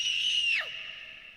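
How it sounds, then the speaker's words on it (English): A single high, sustained scream recorded for use as a film sound effect holds steady for a moment, then drops sharply in pitch and trails away, heard alone and close. "What a great scream."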